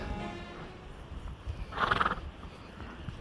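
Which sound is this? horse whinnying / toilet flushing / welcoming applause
horse whinnying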